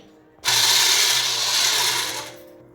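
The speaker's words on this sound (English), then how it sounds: "We will add the ground banana paste, 1/2 cup of oil, and blend it well." A blender whirs loudly and steadily for about two seconds, mixing egg yolks with ground banana paste and half a cup of oil for a banana cinnamon cake, then cuts off.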